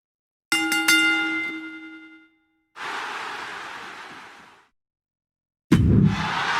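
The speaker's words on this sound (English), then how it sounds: "Let me hear the bell." A wrestling ring bell in the WWE 2K26 video game clangs several times in quick succession and rings out clearly, followed after a pause by loud, hissing bursts of arena crowd noise.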